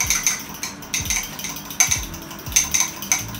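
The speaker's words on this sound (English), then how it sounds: "I'm just gonna keep whisking it." Whisk beating in a bowl, a rapid, uneven series of metallic clicks and scrapes, close and fairly loud, with no voices.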